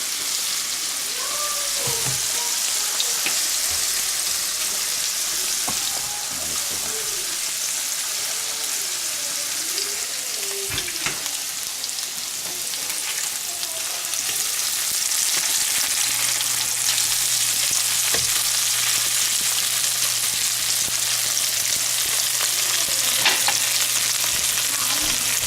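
Cajun-seasoned catfish fillets fry in hot oil with a dense, loud, unbroken crackle and hiss, bubbling sputters scattered throughout and a low hum running underneath, no talking.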